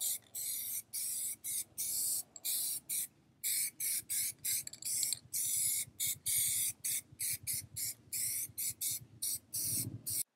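Plasti Dip graphite metalizer top coat sprayed from an aerosol can onto car wheels, heard as a long series of short, loud, close hissing bursts with brief gaps between them and no talking.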